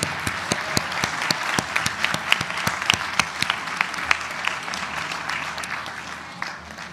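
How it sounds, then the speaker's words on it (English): A meeting audience applauds newly elected board members with steady, sustained clapping from many hands, sharp individual claps standing out, fading slightly toward the end. "Now you can applaud."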